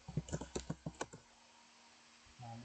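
A computer keyboard typed on up close, a quick run of about eight crisp key clicks that then stops, leaving a quiet hum.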